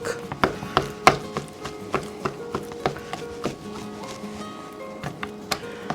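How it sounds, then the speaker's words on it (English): A knife or fork repeatedly stabs a tomahawk rib eye steak on a board while it is prepared for a marinade, giving a string of sharp close taps at an uneven pace with faint background noise and no talking. "You see how I'm puncturing the steak and all of the ingredients which gonna just go in there."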